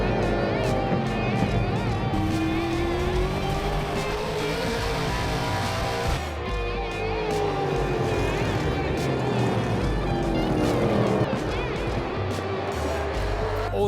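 An XPN Burnix 125 drag racing car makes its final run at a drag racing event, its engine note rising and falling in long sweeps, loud and continuous, with a voice talking over it.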